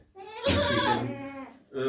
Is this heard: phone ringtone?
no